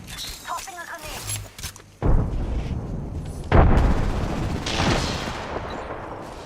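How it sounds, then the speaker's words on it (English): Grenade blast in Apex Legends, heard as a heavy burst followed by a second booming explosion with a long rumbling tail, mixed with scattered gunfire while a player talks over it. "Tossing a grenade."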